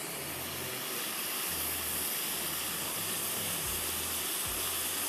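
Red onion sizzling in hot oil in a pan, a steady, bright hiss that holds evenly close by, with faint low clatter underneath and no talking.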